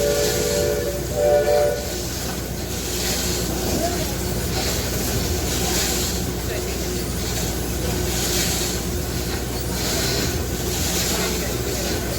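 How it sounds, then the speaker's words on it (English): A long, loud, steady whistle blast from the steamship Virginia V, sounding continuously over a low engine rumble, close by and unbroken for many seconds. "With the sound of the whistle and a ring of the telegraph, it's time to go."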